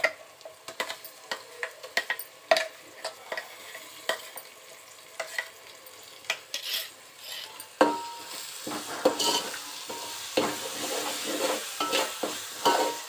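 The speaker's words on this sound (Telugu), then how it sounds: "ఇది కూడా కొంచెం వేగితే ఆనియన్స్ పచ్చివాసన రాకుండా ఉంటుంది" Onion paste sizzles in hot oil in a pan while a utensil stirs it, with scraping and clinking against the pot over a steady frying hiss that grows louder midway.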